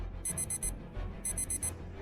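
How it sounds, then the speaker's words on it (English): An alarm clock beeps in two short clusters of four rapid high electronic beeps, with a low background rumble beneath and no speech. "I had set my alarm at 4:30, which must have been the source of all the noise"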